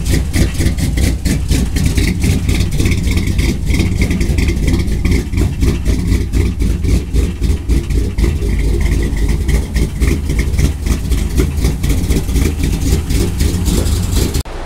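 A 1997 Dodge RAM 1500 pickup with a swapped 5.7 HEMI engine idles steadily and loudly up close, a continuous low rumble with a fast even pulse and no talking.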